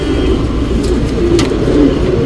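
Rekdhar Patta pigeon, a breeding bird of a champion flying line, cooing softly in a low, continuous murmur close by, with faint background noise and no talk.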